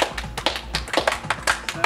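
Modest, uneven hand clapping from a small group, about a dozen sharp claps over two seconds, close and fairly loud with no talk over it.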